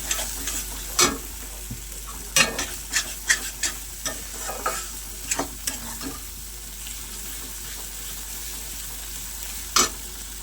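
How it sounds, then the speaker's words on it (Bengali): Spoon stirring mashed green tomato together with chopped coriander, a run of close scraping and tapping strokes with a faint sizzle underneath, busy at first and then thinning out. "সব কিছু আবার খুব ভালো করে একসঙ্গে মিশিয়ে নেব"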